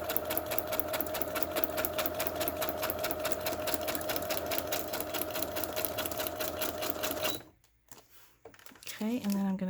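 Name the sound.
sewing machine stitching a straight line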